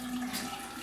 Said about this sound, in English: So let's add some water into our shower.